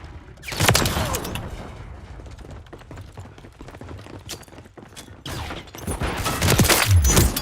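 Dense, rapid gunfire from the Call of Duty MW3 shooter game crackles almost nonstop, with sharp overlapping shots and mechanical clatter swelling louder near the end.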